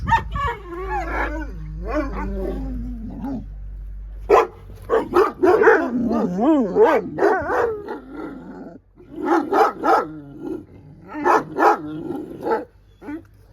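Several Kangal dogs bark, yip and howl in excited bursts close by, with brief quiet gaps between the outbursts.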